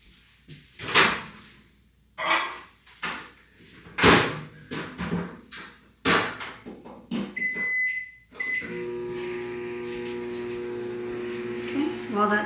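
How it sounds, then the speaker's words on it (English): Several bumps and clunks, then a door shuts and a microwave starts its steady electrical hum with a high tone layered over it, heating pancake ingredients. "I'm just gonna pop this in the microwave for about 30 seconds."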